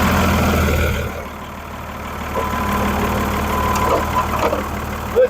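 A Dodge Ram truck engine turns over and settles into a low, steady idle, rumbling close by in an otherwise quiet space with a few small clicks and knocks.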